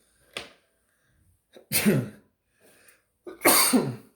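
A teacher in a maths lecture sneezes: a short preliminary sniff, then two loud explosive sneezes a second or so apart, close to the microphone with no talk.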